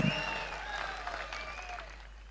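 Audience applause at a Tamil political speech, a steady wash of clapping that holds at an even level throughout, with a brief thump at the very start.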